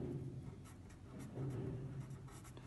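Chalk or a marker scrapes across a board during a thin-film science lecture. The strokes are faint and continuous over a low room hum, with no speech.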